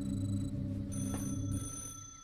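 In-game telephone bell ringing in a New Vegas session, a steady electronic trill with sustained tones that fades slightly toward the end, with no talking over it.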